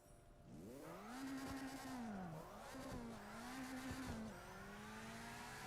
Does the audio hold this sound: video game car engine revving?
yes